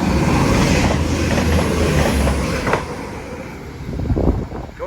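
Loud, close rumble of a class 195 train passing through Widnes station, heavy at first and easing slightly, with clattering wheel noise near the end.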